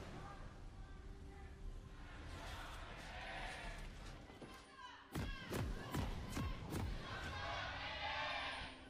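A studio audience at a 2019 LCK Spring League of Legends esports match between Sandbox Gaming and Hanwha Life Esports gives a sustained, fairly loud crowd roar and cheer, mixed with live commentary talk throughout.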